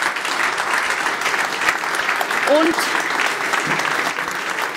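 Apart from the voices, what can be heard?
audience applause at a podium event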